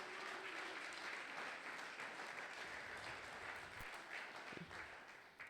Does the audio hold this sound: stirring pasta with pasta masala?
no